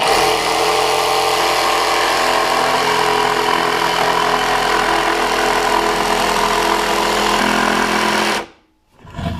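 A Makita DJV180Z cordless jigsaw cutting wood, a loud, steady high-pitched rattling whine that runs without a break for about eight seconds and then stops abruptly before briefly starting again.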